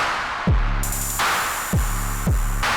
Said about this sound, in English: For our classic distortion here, we reduce the drive and the dirt a bit.